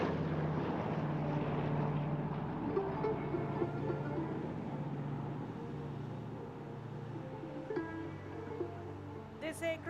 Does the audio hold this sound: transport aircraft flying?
yes